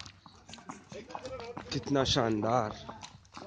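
Horse hooves clip-clop steadily at close range while riding on horseback along a tourist trail in Jammu and Kashmir, heard mostly under excited talk from the rider.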